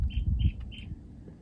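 On Mount Tamalpais, a small bird gives three short, clear chirps in quick succession, faint against low rumbling wind.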